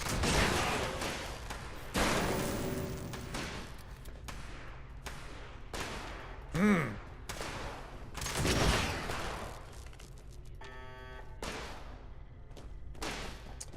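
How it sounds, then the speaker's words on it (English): Gunfire in the online shooter Fallout 76 during a pirates-versus-aliens event: a long series of rapid, clipped shots and bursts, some close and punchy, others thinner, with occasional heavier thumps and no voices. "Someone's shooting."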